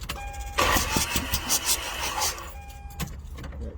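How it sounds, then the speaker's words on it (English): A Toyota Previa engine cranks over with no spark plug fitted after a head gasket job, the starter whirring in a steady churning run for a few seconds, close and loud, then cutting off. "First of all, I'm gonna crank it over."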